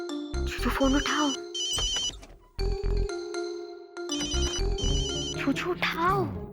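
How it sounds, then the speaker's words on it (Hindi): A cartoon phone rings in repeated electronic bursts with pauses between rings, loud and close, alternating with a musical score and brief voices. "चूचू को फोन करती हूँ।"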